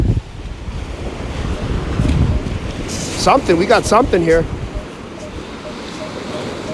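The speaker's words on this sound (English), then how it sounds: "And here come the waves." Ocean waves break and wash on a beach at night, a rough rolling roar tangled with heavy wind buffeting the microphone, while someone speaks briefly over it.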